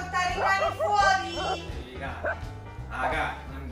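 Dogs at home bark and yip in short bursts, mixed with loud overlapping talk and a low musical hum throughout.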